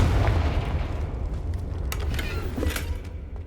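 Spell blast from the Confringo charm in the video game Hogwarts Legacy, a dense rumbling boom with crackling bursts and sharp pops layered over a continuous low roar, loud and close throughout.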